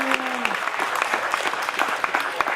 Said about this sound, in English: How about a round of applause for these two materials?